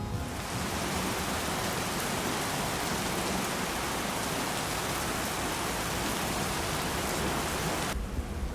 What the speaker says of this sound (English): and it rained